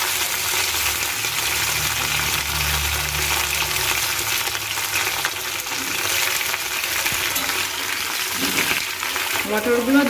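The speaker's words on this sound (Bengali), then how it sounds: "আমার তেলটা গরম হয়ে গেছে এবার আমি এর মধ্যে আমার যে ফুলকপিটা নিয়েছিলাম ফুলকপি এবং আলু ওই দুটো ভেজে নেবো" Cauliflower and potatoes frying in hot oil, with a loud, dense, continuous sizzle that stays close and steady from start to finish.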